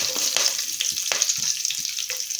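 Sliced garlic and shallots sauté in a pan for a beef stir-fry, a continuous bright sizzle with scattered spoon taps and stirring scrapes, close and fairly loud, no voices.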